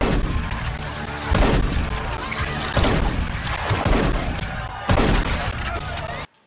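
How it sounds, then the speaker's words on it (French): A pump-action shotgun fires several loud, sharp blasts over music, with a voice speaking through the reports. "Pour nous prouver qu'on peut être précis avec un fusil à pompe."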